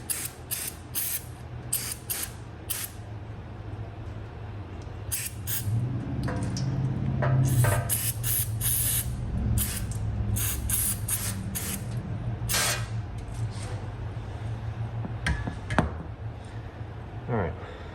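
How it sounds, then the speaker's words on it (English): Repeated short hissing bursts of an aerosol spray onto the switch of a Ram Tools Model F-11 Fury drill, some quick and some longer, close to the microphone with handling noises between them. "let's spray the switch a little bit"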